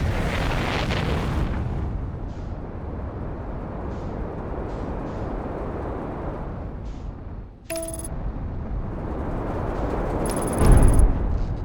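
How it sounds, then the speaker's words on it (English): Volcanoes erupt in the space exploration game Outer Wilds, a deep rumbling roar that rolls on continuously with scattered pops, then a sharp break and a heavy boom swelling near the end. "What if there's a way I could stop the volcanoes from shooting"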